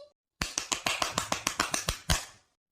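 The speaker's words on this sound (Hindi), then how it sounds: "ताली बजाओ" Sharp, evenly spaced claps, about a dozen in a steady rhythm, come from a small group clapping along to a Hindi wedding-procession song at a folk performance. They stop abruptly into silence.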